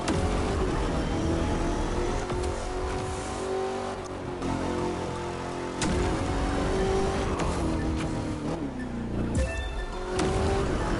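Racing and drifting in The Crew 2 video game: loud, continuous engine roar with shifting revs and pitch sweeps, tire squeal during slides, steady and dense throughout with no talk.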